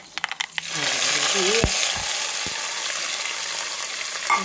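Dried red chilies and curry leaves dropped into hot oil with mustard seeds, a few clinks and stirring taps at first, then a loud, steady sizzle and crackle that fills the rest, with a spoon scraping occasionally.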